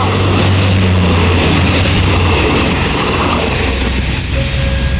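Continuous rumbling of a Thai passenger train, heavy low rumble and steady rolling of wheels on rails, loud and close, with a faint tonal whine near the end.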